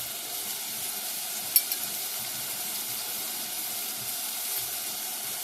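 Carrot and onions frying together in a pan, a steady soft sizzle and hiss running throughout with one brief clink of a utensil while stirring.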